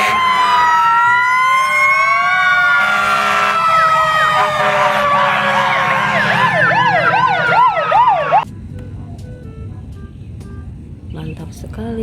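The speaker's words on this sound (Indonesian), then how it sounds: "lihat di sini ada mobil pemadam kebakaran teman-teman" A toy fire truck's electronic siren wails loud and close with a rising and falling pitch, layered over jingly toy music, then stops abruptly and leaves quieter clatter.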